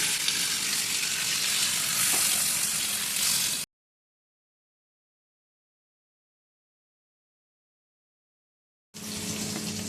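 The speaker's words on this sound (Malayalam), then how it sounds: "നമ്മൾക്കപ്പോൾ ചിക്കൻ ഒന്ന് ഫ്രൈ ചെയ്തെടുക്കാം." Chicken frying in hot oil sizzles with a loud, dense crackle, cut off by a stretch of total silence before the sizzle returns.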